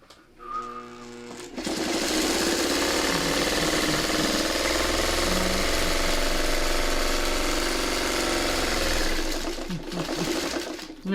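A sewing machine runs fast and steady while stitching quilt sashing, a close, continuous whirring hum that starts abruptly and stops near the end, with no talk.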